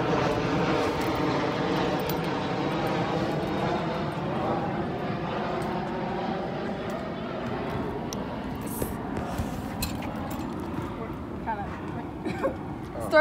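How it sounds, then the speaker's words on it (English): A fixed-wing airplane passes overhead outdoors, a loud steady engine drone that fills the whole stretch, with a person speaking underneath it. "let's wait for the stupid plane to go by"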